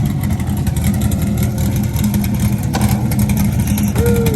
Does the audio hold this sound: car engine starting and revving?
yes